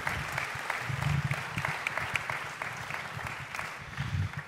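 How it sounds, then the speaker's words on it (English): An audience applauds steadily at a university jazz orchestra and big band concert, a moderately quiet, continuous patter of clapping that holds throughout. "How about another round of applause for Dr. Greg Simon and Abigail Seidel?"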